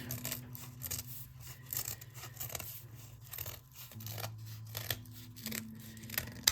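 A cake board is cut away from under a frosted cake in a series of close, dry, scratchy snips and scrapes with brief pauses between them.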